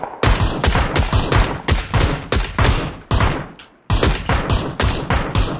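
Rapid bursts of automatic gunfire in a video game crackle loud and close, repeated volleys with brief gaps between them and no talking.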